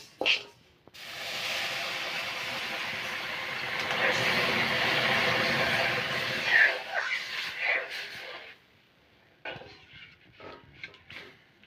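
A loud, sustained hiss and roar as water hits a hot pan of fried lentils, lasting several seconds before breaking into scattered clatters and bubbling.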